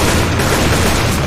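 A pipe bomb goes off in Left 4 Dead 2 as a loud, dense blast whose heavy rumbling roar fills the whole moment, with no voices.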